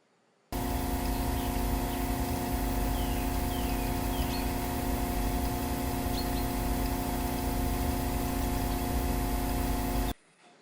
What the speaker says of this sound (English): So right now we're gonna listen to the standard pump